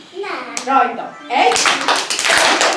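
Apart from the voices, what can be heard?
audience clapping hands three times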